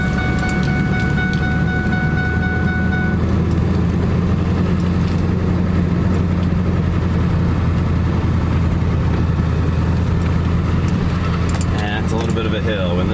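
Truck towing a trailer down a driveway, a loud continuous engine drone and road rumble with rattling and a brief tone early on, a voice talking over it.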